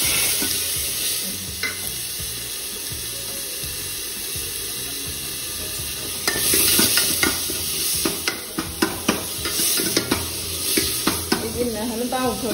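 Onion, tomato and capsicum fry in a pan under a steady loud sizzle, with a spoon scraping and clanking against the metal in irregular strokes through the second half.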